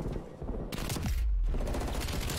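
Gunfire in Black Ops Cold War: a dense, close rattle of automatic fire, with a heavy low boom near the middle, then a steady burst resuming.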